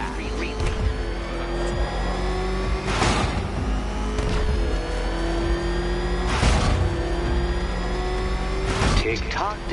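Batmobile engine in a Batman video game on PS4 revs and roars steadily, with bursts of acceleration and tire squeal around three, six and nine seconds, under a speaking voice.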